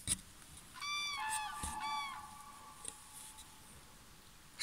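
Several geese honk in a short outdoor burst of repeated nasal calls at moderate distance, with quiet surroundings before and after.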